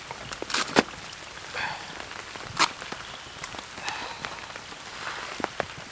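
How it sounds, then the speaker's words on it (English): Heavy rain falls at a carp-fishing lake at night in spring, a steady patter with sharper drops striking nearby surfaces, and a few louder knocks and taps rising over the constant wash. "it's absolutely hammering down with rain."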